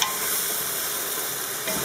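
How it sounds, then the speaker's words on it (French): A chicken and cardoon tagine with preserved lemon simmers in its pot, giving a brief, even hiss and soft bubbling sizzle at close range. "Donc je laisse mijoter un petit moment."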